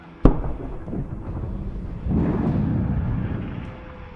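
A Russian military vehicle hit by a HIMARS strike blows up, with a sharp distant bang followed by a rumbling roar and a second swelling wave of crackling ammunition explosions.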